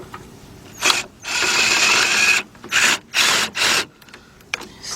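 A ratchet works on the belt tensioner of a 1993 Honda Accord engine, giving close, loud clicking strokes in four or five separate bursts with short pauses between them.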